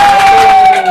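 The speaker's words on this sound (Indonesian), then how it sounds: "tepuk tangan dulu dong" Studio audience at an Indonesian talk show clapping and cheering together, a loud, dense crowd roar filling the short moment, with a steady high whistle-like tone running through it.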